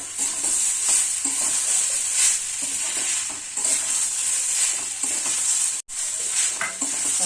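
Spice masala with sugar and ground chilli frying in a pan for a papaya and mung dal dish, with a steady bright sizzle and repeated scraping strokes of a spoon, briefly cut off near the end.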